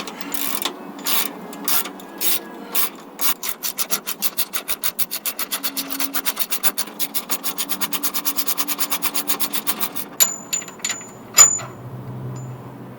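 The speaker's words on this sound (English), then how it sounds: "So first we're just going to loosen this bolt." A ratchet loosens a rear tie rod bolt on a Land Rover Discovery with slow strokes of clicks, then a fast, even run of close, loud clicking, ending in a few scattered clacks and a softer rub.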